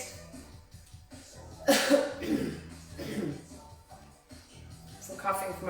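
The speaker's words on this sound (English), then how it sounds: "Some coughing from our run on Monday." A person coughs during a fitness workout session, a sharp broadband burst in the middle followed by a few softer coughs and breaths over steady background music.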